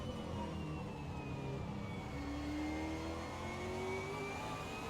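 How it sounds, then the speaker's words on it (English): A V8 Supercar engine heard from onboard during a racing lap at the Circuit of the Americas, a steady, fairly faint roar whose pitch climbs and drops as it accelerates through the gears. "We might go on board with young Josh and see what a lap looks like and have a listen"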